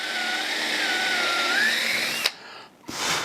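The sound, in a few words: drilling a hole with a 1/4-inch drill bit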